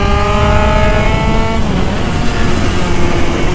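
An Italkit 80cc moped with no brakes revs and accelerates hard, a loud continuous engine drone with rising harmonics in the first half that then blurs into broadband roar, close and steady throughout.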